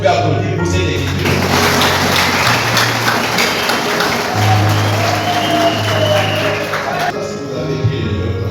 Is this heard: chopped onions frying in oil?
no